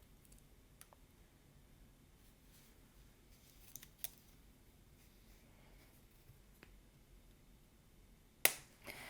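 Thin 20 gauge craft wire being snipped for a wire-wrapped basket weave figure-8 piece, with a few faint quiet clicks scattered through near silence and one sharper, louder snip close to the end.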